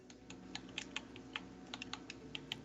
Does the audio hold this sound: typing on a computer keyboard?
yes